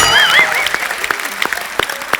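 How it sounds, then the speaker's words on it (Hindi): Studio audience on a comedy talk show applauds the Begum Jaan star cast, with loud scattered clapping that quickly thins into a few individual claps. "एक बार बेगम जान की पूरी स्टार कास्ट के लिए जोरदार तालियां।"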